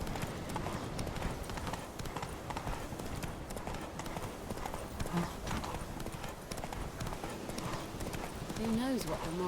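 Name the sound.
horse hooves clip-clop, from video game The Witcher 3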